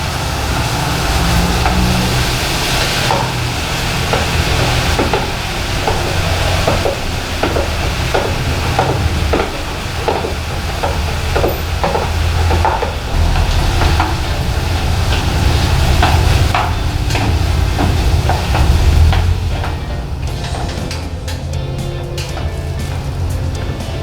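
Tomatoes go into a pan of half-cooked meat for kimchi con carne, with a loud, continuous sizzle and a rhythmic run of scraping stirring strokes throughout.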